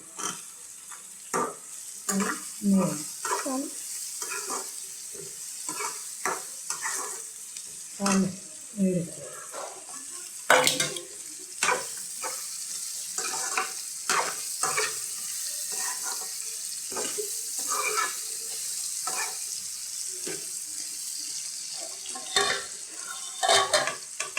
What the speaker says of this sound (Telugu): ములక్కాయలు అనేవి కూడా దోరగా ఫ్రై అయిపోయినాయి